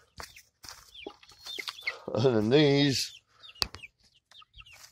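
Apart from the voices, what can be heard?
chickens clucking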